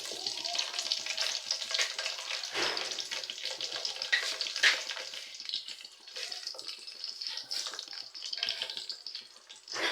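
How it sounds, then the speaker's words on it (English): Onions frying in a pot for a Nigerian chicken stew, with a steady broadband sizzle and crackle running throughout, close and fairly loud, plus occasional stirring scrapes. "Make sure you fry your onions for like 2 minutes"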